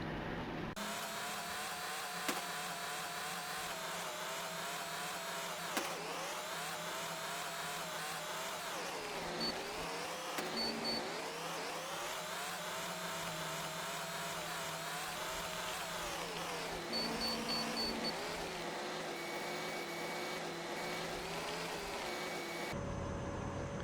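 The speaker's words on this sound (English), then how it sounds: "now I need to be extra careful with the truck so that I don't get stuck again while emptying this" A heavy truck in Construction Simulator 2012 drives and dumps its load, its engine droning steadily with pitch rising and falling through rev changes, joined by whining mechanical tones, alone throughout.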